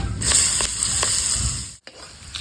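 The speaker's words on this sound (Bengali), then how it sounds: "কালো জিরে গোটা লঙ্কা শুকনো লঙ্কা ডালচিনি লবঙ্গ ছোটো এলাচ দিয়ে দেবো কেটে রাখা পেঁয়াজ" Chopped onion drops into hot oil with black cumin, whole dried red chillies, cinnamon, cloves and small cardamom, producing a loud, close, continuous sizzle with a few stirring scrapes and one brief break.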